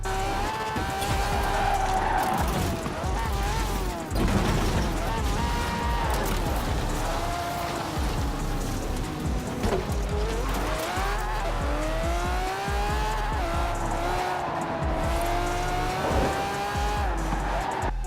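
A Forza Horizon 4 sports car engine roars and revs up and down continuously, with tires squealing through skids, loud and close throughout.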